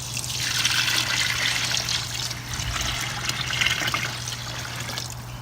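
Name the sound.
pouring warm water into pastrami brine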